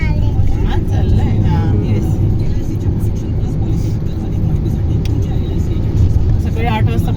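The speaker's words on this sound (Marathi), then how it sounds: "सकाळी 8 वाजता पण भरपूर ट्रॅफिक आहे." Morning road traffic on a Konkan road trip, heard as a continuous engine and tyre rumble with passing vehicles, fairly loud and steady, with voices talking over it.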